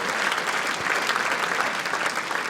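A crowd at the World Indoor Bowls Championship reacts with a continuous, fairly close wash of clapping and murmur that lasts throughout.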